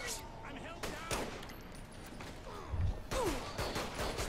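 Sharp gunshots from a video game, fired singly with gaps between them, over a busy game soundscape with faint voices.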